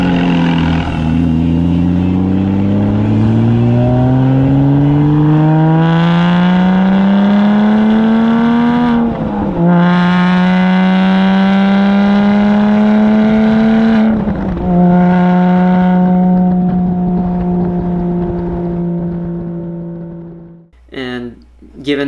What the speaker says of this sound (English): I straight piped my exhaust.